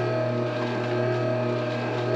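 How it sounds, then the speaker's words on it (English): Electric pasta maker extruding homemade pasta dough, a steady continuous motor hum with a low droning tone and no breaks, fairly close and alone. "Okay, it looks like the pasta maker is done."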